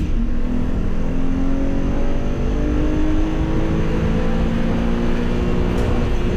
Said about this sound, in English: Tried downshifting the second here to really just shut off some speed, help some engine braking